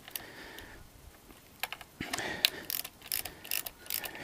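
Torque wrench tightening fork nuts on a KLX/DRZ 400 motorcycle fork to 15 foot-pounds, close metallic ratcheting clicks in short bursts, quiet at first and then busier.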